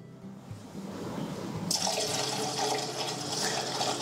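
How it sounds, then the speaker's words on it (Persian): Grape juice for homemade grape molasses is poured back into a cooking pot, a sudden rush of splashing liquid that starts partway through and keeps flowing steadily and close, after a quieter stretch of low kitchen handling noise. "حالا آب انگور رو برمیگردونم مجددا داخل قابلمه"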